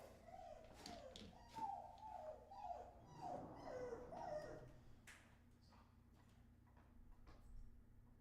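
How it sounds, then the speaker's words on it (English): A dog yelps and barks excitedly in a series of short, high bursts, fairly close, followed by quieter scattered taps and clicks. "my dog is going crazy here"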